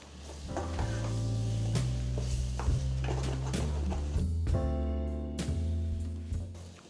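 Chili powder and spices for a snakehead murrel fish curry are stirred in a pan over a low flame, with intermittent spoon scrapes and clinks over a steady tonal hum.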